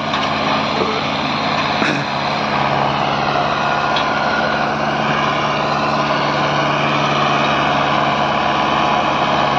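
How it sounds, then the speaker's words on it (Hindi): A tractor engine labours under load pulling a 9x9 harrow in a field, a loud, constant droning roar that holds steady throughout, with no speech over it. "चाल भी मैसी से कम है और इंजन भी दाब मान के चल रहा है इस ट्रैक्टर का"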